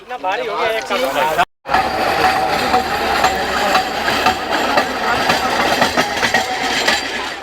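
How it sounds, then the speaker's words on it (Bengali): An electric railway tower van crosses the Nasipur rail bridge with a loud, steady rumble and clatter of wheels on track, interrupted by a brief gap, with voices at times. "দেখুন এই মুহূর্তে যে টাওয়ার ভ্যান সেই টাওয়ার ভ্যানটি চলে আসছে নসিপুর রেলওয়ে ব্রিজ কভার করছে"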